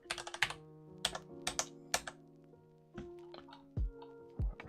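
Quick bursts of typing on a computer keyboard, close and crisp, with a few pauses and some heavier thumps near the end.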